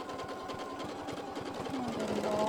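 A sewing machine stitches fabric around a curve, its needle running in a quick steady rhythm close by, slowing and speeding slightly as the work is turned, with a faint hum underneath.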